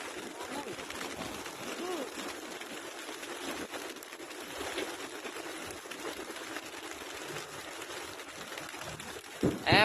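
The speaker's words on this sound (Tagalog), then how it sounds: "Ayan mga kalapatids, mga training birds natin, ayan, naglipara na po." A flock of training pigeons is released and takes flight outdoors, a continuous dense flutter of wingbeats at moderate level across about ten seconds.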